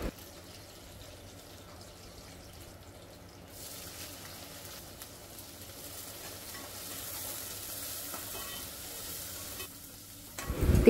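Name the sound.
tempering (tadka) sizzling into moong dal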